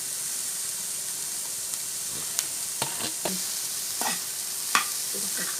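Peanuts and carrot frying for peanut sundal, giving a steady hissing sizzle with a few scattered scraping and tapping stirs in the latter half, close but fairly soft, with no talk.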